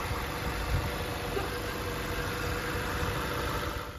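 A 2024 Chevrolet Traverse RS AWD with a 2.5-liter turbocharged four-cylinder idles with a steady, close, even rumble that holds throughout and tapers slightly at the end, with no talking over it.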